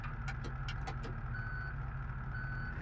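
A truck's reversing alarm beeps in a steady repeating pattern while backing up in the BeamNG driving game, clear over a constant low engine rumble.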